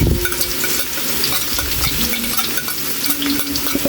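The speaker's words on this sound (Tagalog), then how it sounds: "mainit na yung mantika natin. Ilalagay na natin yung blender natin Kaili na bawang at sibuyas" Garlic and onion crackle and sizzle steadily in hot oil, a close, continuous frying hiss with occasional stirring scrapes and no talking.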